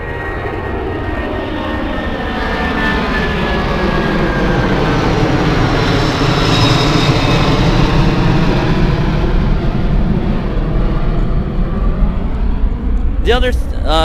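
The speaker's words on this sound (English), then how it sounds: "We're gonna let the airplane pass." A propeller airplane passes low overhead, its droning engine swelling loud and then fading, with a brief voice near the end.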